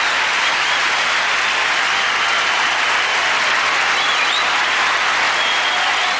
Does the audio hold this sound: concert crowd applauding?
yes